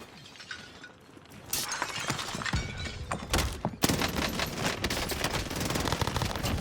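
Rapid bursts of PPSh submachine gun fire in the Warzone video game, loud and dense. Shattering crashes and a sustained fusillade fill the latter half.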